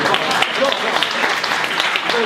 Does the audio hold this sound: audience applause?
yes